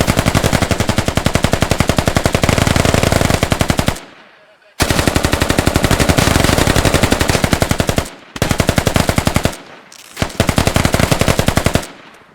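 Sustained automatic gunfire in a competitive shooter match, long rapid bursts of evenly spaced shots broken by brief silent gaps, loud and close throughout.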